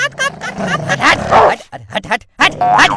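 A dog barks and growls close by in short, rough bursts, mixed with loud, agitated human shouting throughout.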